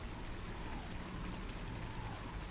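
Steady rain falls in the ARK Pokemon mod video game, a soft continuous hiss of drops across the whole stretch, faint and even, with no voices.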